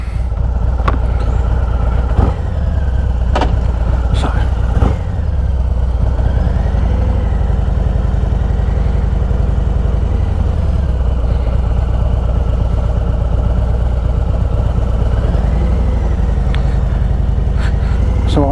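A 2023 Harley-Davidson Road Glide Special with a Screaming Eagle Stage 2 engine runs steadily and close, with a low, even rumble and a few sharp knocks or clicks near the start.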